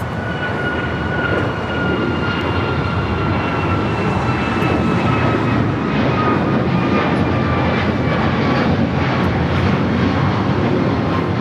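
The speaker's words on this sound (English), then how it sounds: "This is United Airlines 1012 taking off to Washington Dulles on the MAX 9." Steady, loud roar of a United Airlines Boeing 737 MAX 9 taking off from runway 25 right at LAX, broadband engine noise sustained throughout with faint whining tones drifting downward, no talking.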